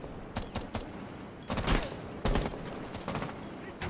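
Gunfire in a video game, rapid bursts of automatic shots in short volleys, loud and close, with brief pauses between strings of fire and occasional talking underneath.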